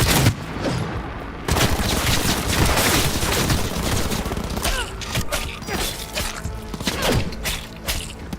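Gunfire in the video game Cyberpunk 2077: rapid, loud bursts of automatic shots and heavy thuds rattle almost nonstop, with sharp individual cracks standing out near the end.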